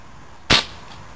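A single sharp gunshot fired at an iPod touch 4G, loud and close: one abrupt broadband crack with a short decay, alone against a steady low background hiss.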